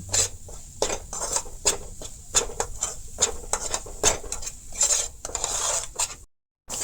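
Turmeric and chili masala with tomato paste sautéed with pointed gourd in a pan, rhythmic scraping and clinking of a spatula against the metal pan in repeated strokes, close and clear, no voices.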